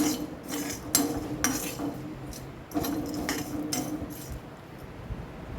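Dried shrimp rattle and clink against a metal pan as they are stirred and tossed while frying, in irregular bursts of scraping, close by.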